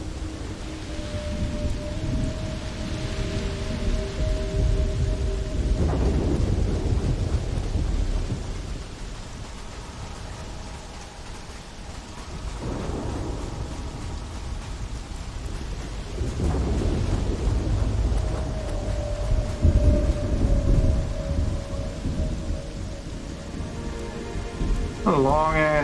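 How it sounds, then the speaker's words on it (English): Thunderstorm with long, heavy rain, a dense continuous hiss of downpour broken by several deep rolling thunder rumbles spread across the stretch, with faint tonal sounds drifting through. "A long ass rain too."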